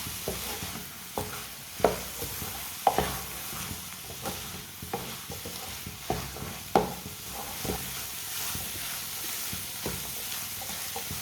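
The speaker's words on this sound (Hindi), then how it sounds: "अब इसे 2 मिनट के लिए ऐसे ही मिक्स करते हुए पका लेंगे।" Eggs and peas cook in a pan with a steady sizzle, while a spoon scrapes and stirs in regular strokes throughout, each stroke a brief clack over the frying hiss.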